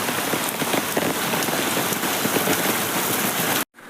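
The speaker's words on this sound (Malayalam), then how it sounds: "അടിപൊളി മഴയാണ്" Heavy rain pours down steadily and loudly onto surfaces with no voices, then breaks off abruptly for an instant near the end before resuming.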